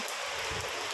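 Lingering post-typhoon rainfall pouring steadily, a broad unbroken wash of droplets striking nearby surfaces, brief and uniform with no one talking.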